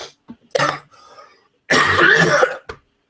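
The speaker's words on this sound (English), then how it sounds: "I'm just going to go ahead and cough and die for you guys on screen." Someone coughs close to the microphone: a few short hacks and throat sounds, then a longer, loud fit of coughing trailing off into a small final cough.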